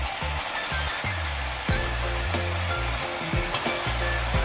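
Frozen chicken pieces for ginger chicken with white wine sizzle loudly and steadily in a hot pan, with the constant hiss broken by regular scraping or stirring knocks.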